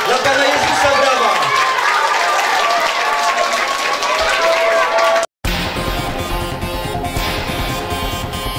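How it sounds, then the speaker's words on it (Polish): Crowd at a preschool Easter show clapping loudly, a dense wash of applause with children's chatter, then an abrupt cut to a different, steadier noisy section with voices underneath. "I wielkie brawa dla Jezusa na końcu. Dla Pana Jezusa brawa."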